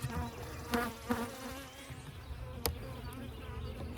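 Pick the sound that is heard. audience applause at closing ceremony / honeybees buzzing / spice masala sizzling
honeybees buzzing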